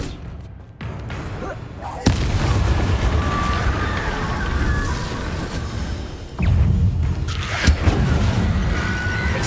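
Incendio fire spell cast in Hogwarts Legacy, a loud booming burst that opens into a sustained roaring, crackling rush of flame, followed by a second heavy surge.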